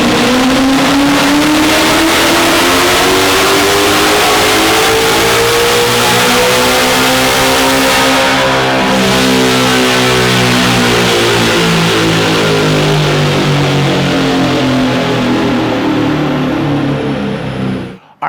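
The Silver Bullet car screams through a full pull on a dyno, its engine note rising steadily through the revs in one long, loud, continuous sweep before cutting off abruptly at the end.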